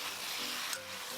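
Pan-fried chicken wings are stir-fried with sauce ingredients, a soft steady sizzle with a brief scrape of stirring, quiet and close, no talking.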